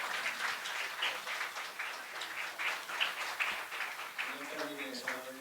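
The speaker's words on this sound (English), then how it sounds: "So this deserves an applause." Scattered, light applause from the audience at a regional education meeting, moderately distant, with individual claps audible, and a voice beginning to speak near the end.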